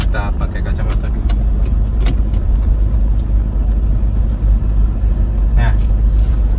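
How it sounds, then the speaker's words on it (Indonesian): A 2011 Toyota Fortuner diesel automatic climbing an uphill mountain road, its engine a steady heavy low rumble with road noise, heard from inside the vehicle along with a few brief clicks. "kita akan mencoba performa Toyota Fortuner ini di daerah tanjakan ya"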